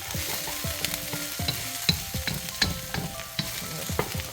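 Onions and garlic frying in sesame oil for fried rice, with a spatula stirring and scraping the pan in repeated strokes over a steady close sizzle; no talking.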